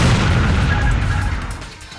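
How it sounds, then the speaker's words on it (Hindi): A loud, deep explosion roars as the Germanwings airliner crashes into the French Alps at around 700 km/h, a sustained heavy rumble that slowly fades over two seconds. "और एक जोरदार धमाके की आवाज आई।"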